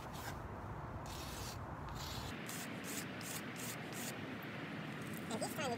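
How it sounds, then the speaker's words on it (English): Sandpaper rubs against a wooden knife in a continuous, close, rasping scrub that turns into short rhythmic strokes halfway through. "Switch this around to my slightly less gritty concrete, and I'm gonna grind it down a little bit further."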